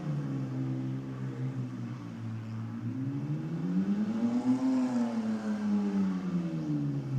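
Car doing burnouts at a burnout competition event, the engine held at high revs with a droning tone that rises and falls in pitch as the throttle is worked, loud and continuous with no voices.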